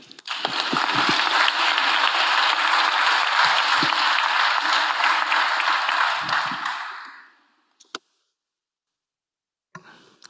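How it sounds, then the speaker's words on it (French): A conference audience breaks into warm applause, a dense, loud wash of clapping that holds for about seven seconds before quickly fading out, followed by a couple of isolated knocks. "Vous pouvez applaudir, s'il vous plaît."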